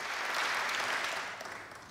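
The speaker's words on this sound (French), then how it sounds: "Un discours sur l'amour que, bien sûr, tout le monde applaudit." A crowd applauds a speech, a dense, steady burst of clapping that holds full for about a second and then starts to thin and fade.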